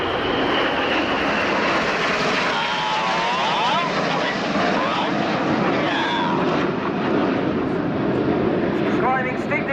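Red Arrows BAE Hawk T1 jets roar loudly and continuously through a flying display at the RIAT 2017 Royal Air Force airshow, with a voice faintly audible beneath the engine noise.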